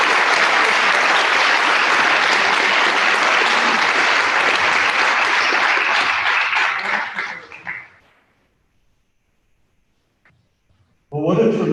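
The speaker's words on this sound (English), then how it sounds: "Another round of applause for all of them" Loud, dense applause from a crowd honoring seniors at a spring athletic signing ceremony carries on for several seconds, fades to near silence, then a new burst of clapping begins at the end.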